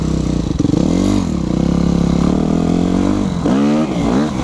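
A Yamaha YZF 250 dirt bike engine revs hard and close during a wheelie, pitch rising and falling in a sustained loud roar, with a second sharp rev near the end.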